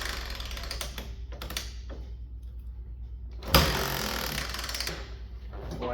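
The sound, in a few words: kick-starting a Honda Big Red engine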